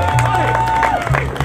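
Audience applause and cheering at a community Colombian Independence Day celebration in Guatemala, a brief burst of clapping and crowd noise over a sustained tone, moderately loud and close.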